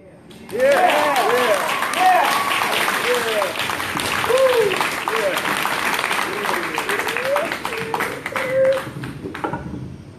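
Audience at a youth poetry event at Betty Shabazz Academy clapping steadily for about ten seconds, dense applause mixed with voices and a few cheers.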